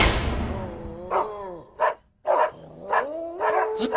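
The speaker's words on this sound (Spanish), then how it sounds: "¡Otra vez esos malditos perros!" Dogs bark in an audio drama, starting with a burst of noise and then a series of separate yips and barks with short gaps, close and fairly loud.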